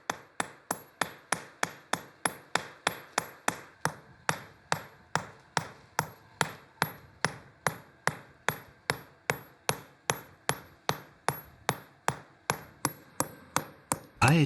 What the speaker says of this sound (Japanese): ビシャンという突起が並んだハンマーで石の表面を叩き、細かい凹凸を作ります